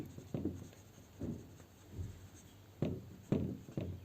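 Pen writing accounting figures for machinery revaluation, with several short scratchy bursts of strokes separated by brief pauses, fairly close and without talk.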